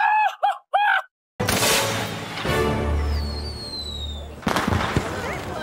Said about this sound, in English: Fire the flare!